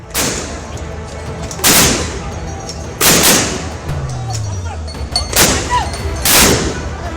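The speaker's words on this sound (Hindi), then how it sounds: "पुलिस लगातार प्रदर्शनकारियों पर आंसू गैस के गोले फेंके जा रहे थे।" Police fire tear gas shells at protesters in Sri Lanka, with several loud, sharp launch bangs spaced a second or two apart over a constant noisy street background.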